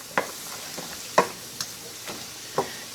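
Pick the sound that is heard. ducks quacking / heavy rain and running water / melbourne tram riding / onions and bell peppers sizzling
onions and bell peppers sizzling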